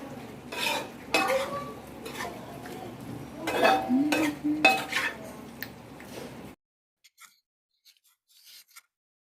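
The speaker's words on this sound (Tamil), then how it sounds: "இப்போ பிரியாணிக்கு கரம் மசாலா, சிக்கன் எல்லாத்தையும் போட்டு நல்லா மிக்ஸ் பண்ணி விட்டுடலாம்." Scraping and clanking of a spoon stirring biryani with garam masala and chicken in a pot, irregular strokes for several seconds, then near silence with a few faint taps.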